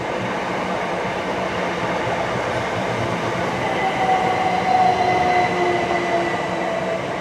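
An electric passenger train rumbles steadily past Twyford station on the Great Western Main Line, wheels droning with a faint rising whine and squeal, growing slightly louder midway.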